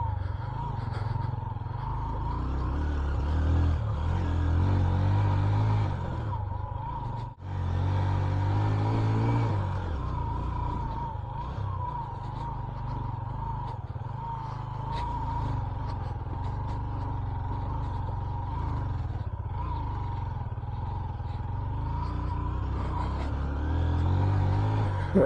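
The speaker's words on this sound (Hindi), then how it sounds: "बाइक जो है ना वो हल्की सी मिसिंग करती है" A motorcycle engine running steadily on a high-altitude mountain ride near Ratti Gali Lake in Neelum Valley, with a faint, slightly uneven misfiring note. The low rumble stays loud and continuous throughout, with a brief dip partway.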